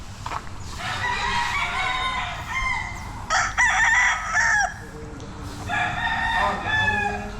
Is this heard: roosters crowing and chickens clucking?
yes